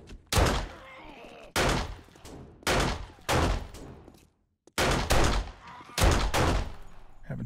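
Gunfire while shooting zombies in the 7 Days to Die game comes in six loud, separate volleys with short pauses between them and a brief silence near the middle.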